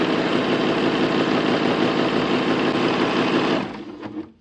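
A Pfaff Admire Air 7000 overlock sewing machine runs at a fast, even, buzzing whir, loud and close, then slows and stops near the end with a brief final burst.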